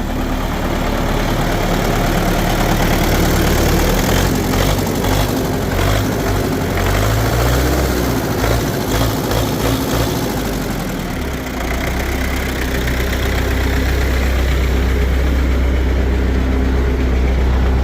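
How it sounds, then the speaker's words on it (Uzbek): A Belarus MTZ-80 tractor with its diesel engine running steadily at idle, a loud, continuous low rumble with an even mechanical throb that never lets up across the whole stretch, with no voices. "traktorimiz yurib turgan holati, juda ovozlari ham chiroyli chiqyapti"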